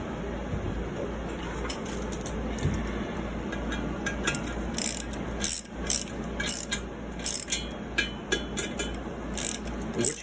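A hand ratchet clicks in quick bursts while snugging down an intake manifold resting on a 3D printed spacer, close-up, with brief pauses between strokes over a low background hum.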